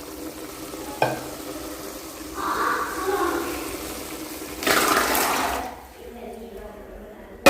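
Chickpea masala sundal stirring and sizzling in a pan, with spices added at this stage, giving steady soft frying hiss with scraping stirs and a brief louder burst midway, close up.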